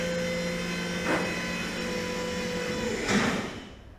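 Hydraulic extension of a Texas Pride Super Seven car hauler trailer's section: a steady mechanical hum and whine running throughout, with two brief louder clunks or surges, one early and one near the end, as the section slides outward.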